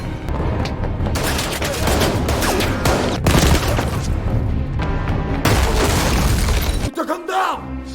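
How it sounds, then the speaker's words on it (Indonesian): Rapid bursts of gunfire and loud booms crash over each other in a dense, chaotic barrage during a shooting at a concert in the 2022 Korean film Hunt, with voices shouting in the mix. "Terjadi tembakan berturut-turut dan banyak intelijen ditembak"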